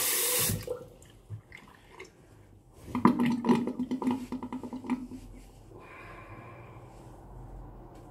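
Cold water runs from a tap in a barber shop, a splashing gush of several seconds that rises sharply, then thins to a softer trickle amid faint room sounds.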